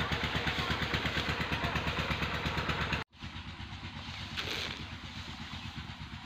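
A diesel irrigation pump engine runs steadily to flood a rice paddy, a loud continuous rhythmic chugging that cuts briefly near the middle and then resumes, less intense, with a faint outdoor backdrop.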